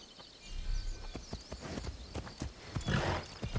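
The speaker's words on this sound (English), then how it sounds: "Let's get the horse." Horse hooves clip-clopping in the video game Assassin's Creed Shadows, a steady run of quick hoofbeats, moderately close, with no talk over them.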